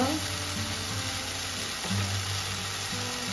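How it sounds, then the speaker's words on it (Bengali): Poppy seeds, green chilli, ginger, melon seeds and cashews fry in a pan, giving a steady close sizzle with a low hum underneath and no talking. "এখন একটু ভাজা ভাজা করে নেব।"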